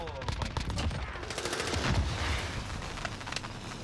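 Rapid automatic gunfire bursts crackle in a Call of Duty Warzone match, repeated volleys rattling continuously at moderate volume over game ambience.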